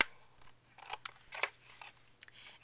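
Scissors snipping through chipboard to trim envelope corners, a quick series of close, crisp cuts and crunches with short gaps between them, against a faint steady hum.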